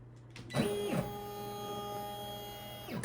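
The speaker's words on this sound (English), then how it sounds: "now it's going to do the cover stitch." An embroidery machine sewing a satin cover stitch on an 8 by 13 inch hoop, a quiet steady motor whir with a faint electric hum, the stitching starting with a rising whine and running evenly before winding down.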